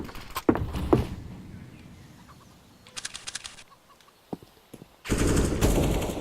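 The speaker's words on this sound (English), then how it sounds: "with a lot of shots going on" Gunfire in Counter-Strike on the Inferno map during a competitive match: scattered sharp shots, a quick burst of rapid automatic fire, a few single cracks, and a louder sustained volley near the end.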